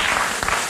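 Brief burst of studio audience applause on a German television cooking show, a close, steady wash of many hands clapping lasting under a second.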